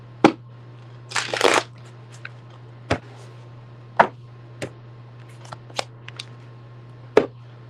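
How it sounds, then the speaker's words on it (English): Cards riffle in a quick burst, followed by scattered sharp taps and snaps as the deck is squared and handled, over a low steady hum. "All right, quick shuffle."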